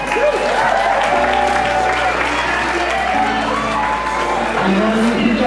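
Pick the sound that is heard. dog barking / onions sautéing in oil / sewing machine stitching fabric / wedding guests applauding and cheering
wedding guests applauding and cheering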